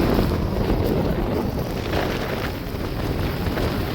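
Strong coastal wind roars steadily near a bridge in Jaffna. It batters the microphone with a loud, constant rushing noise throughout and no clear voices.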